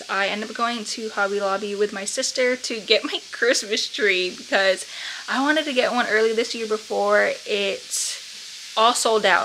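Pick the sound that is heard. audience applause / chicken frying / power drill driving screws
chicken frying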